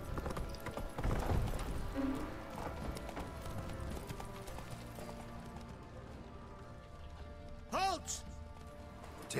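Horse hooves clip-clopping in The Witcher 3 video game, a quick run of close hoofbeats early on, then game ambience, someone talking and a brief rising whinny-like call near the end.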